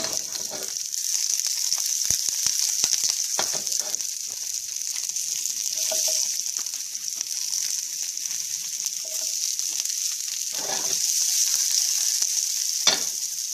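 Onions frying in vegetable oil give a steady, close, bright sizzle that holds for the whole stretch, with a few faint stirring clicks and taps mixed in.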